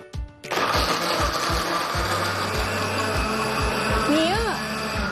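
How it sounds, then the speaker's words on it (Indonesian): An electric blender whirs steadily as it makes juice, a loud continuous motor drone that starts abruptly and runs throughout, with a voice talking over it. "Aku lagi bikin jus dengan menggunakan blender"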